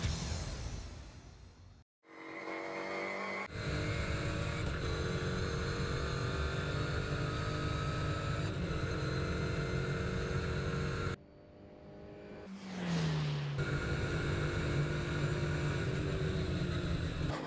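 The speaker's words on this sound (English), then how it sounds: "enjoy the noise of a one-make racer from on board" On board a MINI Challenge one-make race car during a track lap, the engine drones steadily and fairly quietly. It cuts out briefly twice, once near the start and again later, and each time comes back with a rising pitch.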